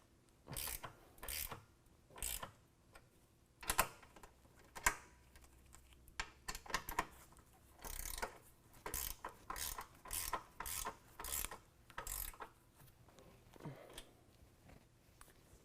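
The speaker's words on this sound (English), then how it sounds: "go ahead and tighten down our nuts with my 13mm" A 13mm hand ratchet tightening nuts on a nerf bar bracket mounted to truck frame studs, bursts of rapid clicking that come in repeated strokes with short pauses between, close and clear.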